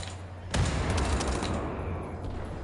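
Heavy gunfire in a shooter video game, a sharp blast followed by a dense, sustained rattle of shots, loud and close.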